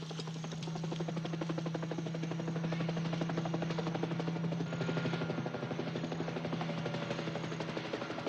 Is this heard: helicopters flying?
yes